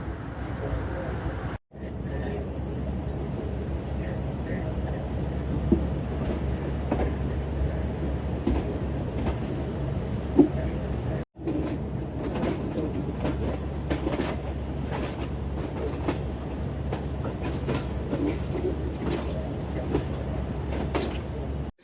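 The Shalimar Express rolls through Shahdara station with a loud, steady low rumble and rhythmic wheel clicks over the rail joints. Two brief dropouts break the sound, and some voices are faintly heard.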